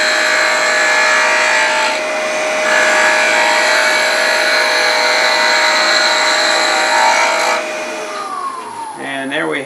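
Turning tool cutting a 1 1/4 inch maple blank on a wood lathe, a steady close-up shaving whine with a machine hum, continuous for most of the stretch before tapering off near the end.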